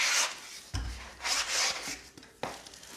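Bike wheels of a Colnago being scrubbed by hand, short brushing and rubbing strokes in uneven bursts, close and fairly quiet, with a soft knock or two.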